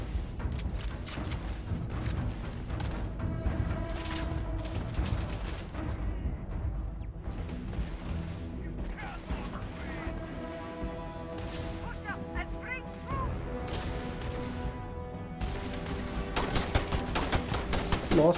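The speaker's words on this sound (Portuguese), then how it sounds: "Agora que os tiros não conectam" Gunfire from the space video game Starfield, rapid bursts of shots with booms layered over game music and effects, steady and loud throughout with no talking.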